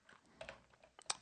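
A computer keyboard is typed on briefly while entering a kill command in a terminal, with a few quiet, close key clicks spread over about a second.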